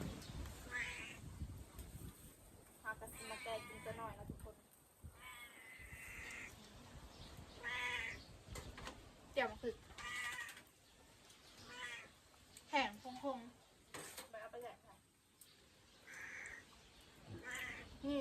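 Several cats meow repeatedly at feeding time, with loud, close, drawn-out cries spread through the clip, mixed with someone talking and some background clatter.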